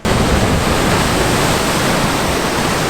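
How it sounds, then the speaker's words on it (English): Atlantic ocean waves on the Madeira coast crash straight into rock pools, a loud, continuous broadband wash of surging water with no pauses and no voices. "the waves just crash from the ocean straight into the rock pools"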